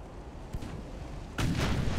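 Warship main guns boom during a naval battle in Ultimate Admiral Dreadnoughts, with a low muffled blast followed by a louder, heavier salvo that rumbles on.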